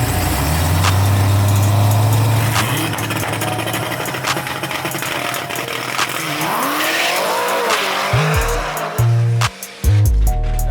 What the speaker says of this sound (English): First pass out, I got out the hole, spun, stayed on it, and it spun.